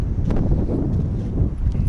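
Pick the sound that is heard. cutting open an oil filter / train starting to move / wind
wind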